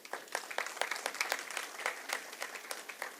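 An audience applauds after a nautanki folk-theatre performance, with distinct claps rising and falling in an uneven rhythm and no voices over them.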